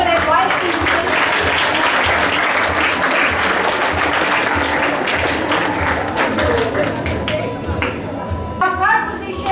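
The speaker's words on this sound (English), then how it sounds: "A huge round of applause for our principal and vice principal." Sustained applause from a large crowd at a school assembly, dense and steady clapping that tapers slightly near the end.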